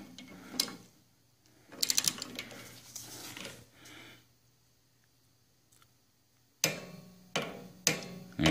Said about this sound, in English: I've got my inch-pound torque wrench set for 95 inch-pounds, and we're going to insert it